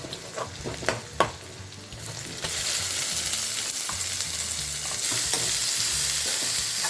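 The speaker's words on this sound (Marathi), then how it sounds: "थोडी परतून घेऊया लसणीचा आता त्याच्यात कांदा घालून घेऊया" Garlic and onion sizzle in a hot pan, starting with a few stirring clatters before the frying hiss swells and holds steady, loud and close, then grows stronger near the end.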